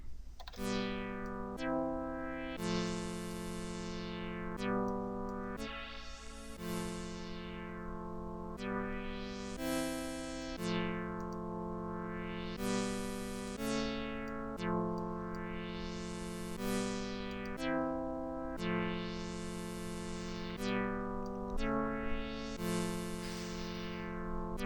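A bright analog synth lead plays a repeating melodic phrase with sweeping, shimmering filter movement and a wide, swirling chorus effect, no voices.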